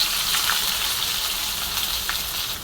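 Onions sizzle in hot oil with cumin and garlic, a steady close hiss of frying with a few faint stirring touches and no voices.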